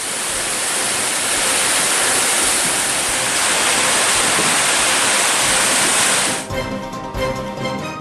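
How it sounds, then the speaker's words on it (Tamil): Water rushing along the Lower Bhavani irrigation canal, flowing bank to bank as a loud, steady hiss that drops away near the end. "வாய்க்காலில் இரு கரைகளையும் தொட்டபடி தண்ணீர் செல்கிறது"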